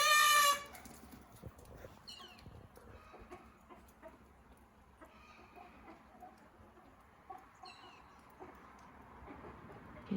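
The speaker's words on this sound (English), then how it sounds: "Oh, that was definitely a predator bird." Outdoors, a predator bird gives one loud, shrill call right at the start, followed by quiet open-air ambience with a few faint, distant chirps.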